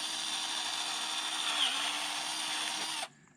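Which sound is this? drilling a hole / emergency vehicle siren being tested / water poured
drilling a hole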